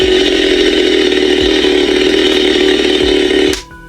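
A Leatherface chainsaw replica toy runs loud and steady after its switch is flipped, giving a constant buzzing motor whine with rattle that stops abruptly near the end, leaving a faint hum.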